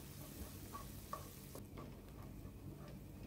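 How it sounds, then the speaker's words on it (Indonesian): Spice paste with lime leaves stirred in a frying pan, a faint low sizzle with a few soft scraping strokes of the spoon, quiet and close with no talking. "Kita aduk-aduk sampai bumbunya itu mateng, warnanya semakin tua."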